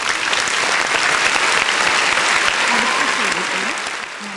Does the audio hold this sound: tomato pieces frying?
no